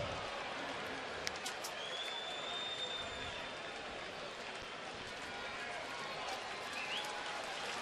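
A baseball stadium crowd roars steadily for pitcher Carmona during a bases-loaded jam, a dense, continuous wash of distant cheering with a few faint whistles, no distinct peaks.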